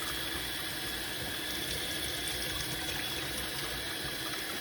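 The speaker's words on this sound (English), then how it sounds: "We'll rinse off the piston unit." Water running steadily from a tap over the piston unit of a TWSBI ECO fountain pen as it is rinsed clean of ink, a constant close gush with no talk.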